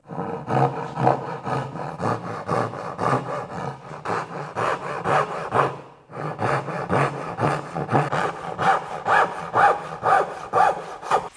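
Japanese pull saw cutting a guide kerf into wood, with steady rhythmic rasping strokes, loud and close, briefly pausing midway before the sawing resumes.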